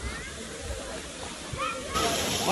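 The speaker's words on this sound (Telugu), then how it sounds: "సో ఇదైతే వాటర్ ఫాల్ అండి." A coastal Karnataka waterfall at Apsara Konda running with a thin flow, giving a steady broad rushing hiss with faint voices of people nearby; the roar swells louder near the end.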